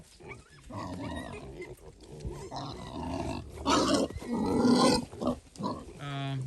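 Red Wattle, Tamworth and Mangalitsa cross piglets grunt and squeal up close, a series of rough, snorting calls rising and falling in bursts.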